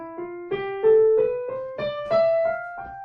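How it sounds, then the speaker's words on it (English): Ascending scale played one note at a time on a melodic instrument, each note separate and evenly paced, with slight emphasis on the first beat of each bar, moderately loud and alone. "I could play the scale sort of emphasizing the first beat of each"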